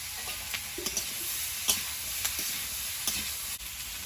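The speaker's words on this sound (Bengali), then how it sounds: "টমেটোটা ভাজা ভাজা হবে" Green tomato curry frying in a pan over a wood-fire stove, with a soft continuous sizzle broken by scattered light clicks and scrapes of stirring.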